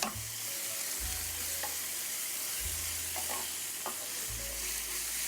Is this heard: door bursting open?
no